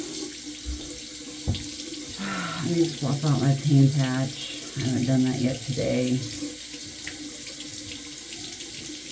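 Tap water runs steadily into a sink in a home bathroom while someone talks over the flow, her voice dominant through the middle of the stream.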